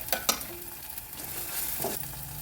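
Ginger paste fries with browned onions in a curry pan, a steady sizzle broken by a couple of sharp utensil scrapes and clinks from stirring, close and moderately loud, with no talk.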